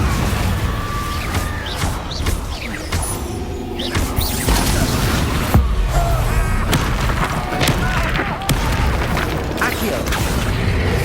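Confringo blasting spells and their explosions in the Hogwarts Legacy video game on PS5, a dense run of booms, thuds and crashes amid continuous combat noise, with the caster's voice shouting spell names over it.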